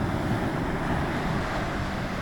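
Steady rushing surf of the ocean in Jamaica washes continuously, mixed with blustery wind buffeting the microphone, loud and close with no break.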